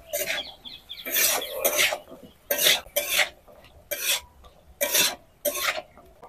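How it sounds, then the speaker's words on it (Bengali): Potato pieces fry with salt, turmeric, chili powder and cumin powder in a pan, heard as repeated scraping, stirring bursts of sizzle in an uneven rhythm, close and fairly loud with no talking. "এইভাবে আলুটাকে 2 থেকে 3 মিনিট ভেজে নেব।"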